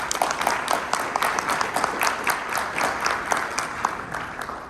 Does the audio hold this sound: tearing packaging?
no